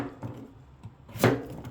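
A knife cutting through a halved white radish on a board makes a few sparse, soft thuds, with the last strike the sharpest, all fairly quiet against a still room.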